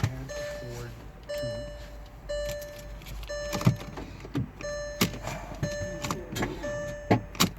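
A Porsche Cayenne S with a dead battery fails to start: a repeating warning chime pings steadily while sharp clicks and hollow thunks from the cabin come and go, and no engine ever catches.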